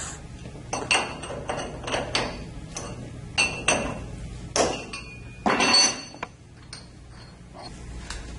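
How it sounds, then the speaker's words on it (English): Repeated hammer blows ringing on metal outboard stands at a rolling mill, roughly one per second at first, loud and close, with a metallic ping after each strike. "You'll have to hit it with a hammer."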